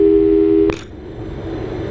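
A phone tone in Portal 2: a steady electronic telephone tone that cuts off with a click, followed by a quiet hum and room tone, with no talking.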